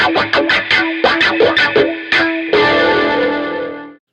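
A distorted electric guitar, played with the thumb-over-the-top technique, plays a quick choppy run of muted notes, then lets a full chord ring out and fade.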